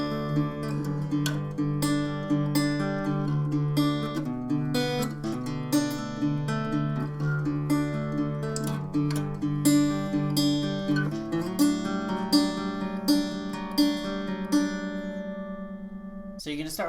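Acoustic guitar plays the bridge of a song, with steady strummed chords that shift to a new voicing partway through and ring out clearly, with no voice over them.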